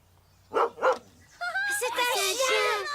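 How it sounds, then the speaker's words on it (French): A cartoon dog named Flamèche gives two short yips, then someone speaks brightly over a continuous stretch of whimpering and excited dog vocalizing close by. "un chien! Il est mignon!"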